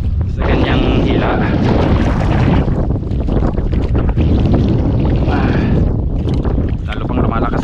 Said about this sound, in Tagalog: Lalo pang lumalakas ang hangin